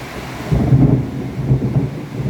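A spring thunderstorm rolls in with low, rumbling thunder that swells and fades over a couple of seconds, under a soft background wash of falling rain.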